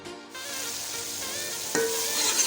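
Masala with green chillies fries for yakhni pulao, giving a steady close sizzle with a louder burst of frying partway through.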